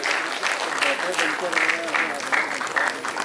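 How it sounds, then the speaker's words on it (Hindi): Audience applause for young PhD award recipients at an agricultural event in Uttar Pradesh, clapping under a voice that keeps talking over it, lively and fairly close throughout. "जोरदार तालियां हमारे सभी युवा प्रतिभागी हैं ये"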